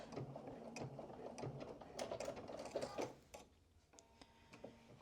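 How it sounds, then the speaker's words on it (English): A sewing machine back stitches at the shoulder seam of a vest, making a steady mechanical whir with clicking over the first three seconds, then fading to quieter, intermittent ticks. "back stitch."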